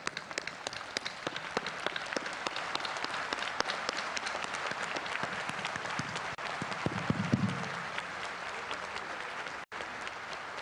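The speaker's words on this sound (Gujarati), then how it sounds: "ઊભા થઈને તાળીના ગડગડાટથી થવો." A standing audience applauds at the Surat Diamond Bourse inauguration with dense, sustained clapping that sounds like rain, steady throughout, with a brief murmur of voices partway and a momentary dip near the end.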